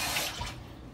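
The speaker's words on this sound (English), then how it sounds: "So she's gonna wash her hands first." Tap water running into a sink as hands are washed, a brief close hiss of flowing water that fades toward the end.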